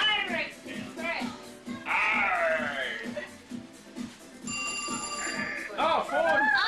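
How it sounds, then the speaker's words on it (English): A telephone rings with a steady electronic trill at home during a family Halloween gathering, heard under lively overlapping voices of adults and children. "Oh, phone! I'll get it."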